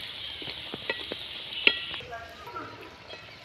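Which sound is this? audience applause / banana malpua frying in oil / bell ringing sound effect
banana malpua frying in oil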